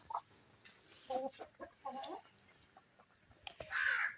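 A rooster and hens cluck in short bursts, close and fairly quiet, ending in a louder crowing call.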